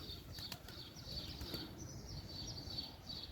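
A bird's wings flap in quick fluttering bursts nearby, against a low steady background hum, with no talking.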